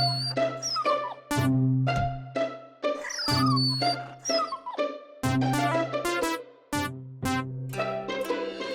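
A dog yelps and whimpers in repeated sharp cries while a boy kicks it, the high whines rising and falling in close, loud bursts with short pauses between them.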